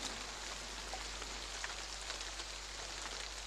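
Steady, dense rain falls heavily on surfaces during a monsoon downpour, an even hiss with no break or voices.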